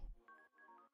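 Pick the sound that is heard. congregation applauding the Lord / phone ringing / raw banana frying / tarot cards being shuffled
phone ringing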